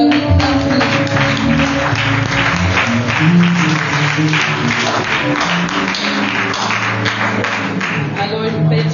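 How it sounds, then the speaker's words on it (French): A church congregation applauds in a dense, steady roar of clapping that lasts the whole stretch, with music and voices mixed underneath. "est-ce qu'on peut avoir un tonnerre d'applaudissements?"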